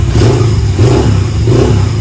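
Close Kaisar Ruby 250 motorcycle engine revving in short surges, its exhaust giving a rough, burbling crackle with light popping.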